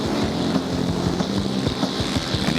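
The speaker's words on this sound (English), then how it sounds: "That new 450 Honda, 4-stroke, single cylinder on the gas." A Honda 450 four-stroke single-cylinder motorcycle races on an ice track, its engine buzzing hard under throttle with rising and falling revs, loud and close for a couple of seconds amid wind noise.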